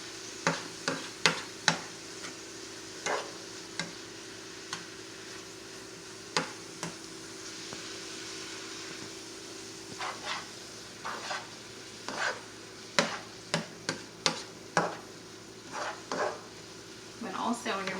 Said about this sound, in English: I'm going to grab my spoon and just stir that around a little bit.